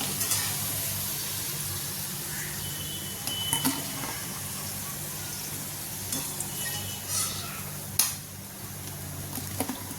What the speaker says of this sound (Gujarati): તો આવી રીતે આપણે બધી પૂરી તળી લઈશું